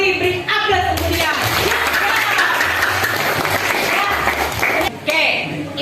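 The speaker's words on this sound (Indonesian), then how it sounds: "Beri aplaus untuk dia." Applause for a student fills a classroom, a steady wash of many hands clapping at close range for several seconds before tapering off, with a few voices mixed in.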